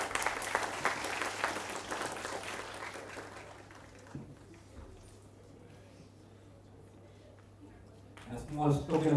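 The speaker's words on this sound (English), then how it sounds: "A big round of applause for" An audience at a university student induction program breaks into loud applause that carries for about four seconds, then fades into a quiet hall before a brief louder stir at the end.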